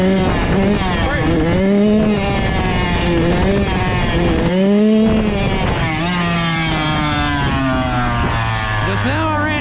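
A 2023 Kawasaki KX112 dirt bike engine revs hard during a wheelie, loud and close, its pitch repeatedly climbing and dropping as the throttle is worked, then settling to a lower steady drone.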